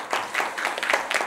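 An audience at a community care results report gathering in Seogwipo claps in a short, moderate burst of applause from many hands, lasting barely over a second.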